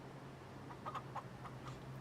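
Wild chickens in Farming Simulator 25, a quick run of four or five soft, close clucks in an otherwise quiet game scene.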